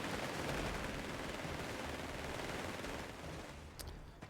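MG42 machine gun fire in Company of Heroes 3 forms a continuous, dense, faint crackling roar of suppressive fire that thins out near the end.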